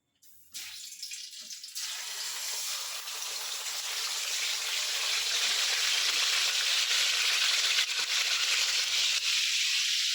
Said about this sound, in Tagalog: Kumukulo na yung ating mantika